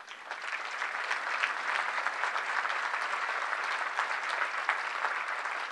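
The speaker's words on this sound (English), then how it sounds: "Can we give them a round of applause?" A banquet audience at an annual benefit dinner applauds steadily, a dense, even wash of many hands clapping throughout, with no voices standing out.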